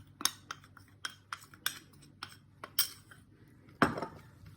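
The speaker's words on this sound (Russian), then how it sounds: "Перемешиваем хорошо, чтобы не было комочков" A whisk clinks and scrapes against a bowl in quick, irregular strokes while eggs and sugar are mixed for a cream, close and fairly quiet.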